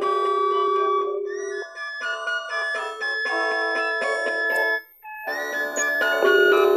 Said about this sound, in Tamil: இப்போ எனக்கு இங்கே ஃபோன் ரிங் ஆகுது